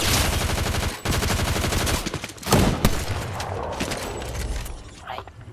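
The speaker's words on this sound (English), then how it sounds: "now he's shooting at us" Automatic gunfire in the video game Fortnite, with loud, close bursts of rapid shots rattling continuously, then breaking into heavier blasts and scattered shots as the firing trails off.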